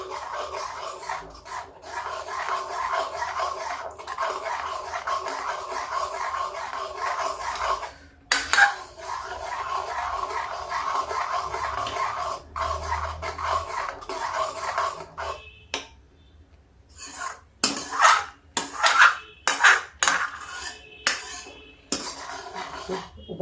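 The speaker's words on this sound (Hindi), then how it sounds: "गुड़ का बूरा है, इसलिए हम इसको चलाते रहेंगे जिससे दूध फटने ना पाए।" A spoon stirs kheer made with kakun rice, milk and jaggery powder in a metal pot. It scrapes against the pot in a long run of steady rhythmic strokes, goes quiet briefly, then gives scattered, sharper scrapes and clinks up close.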